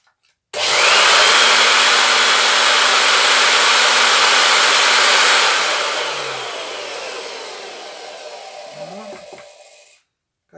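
An old Uralets vacuum cleaner runs after repair, a loud steady whooshing roar from its motor that starts abruptly, holds for several seconds, then winds down and cuts off.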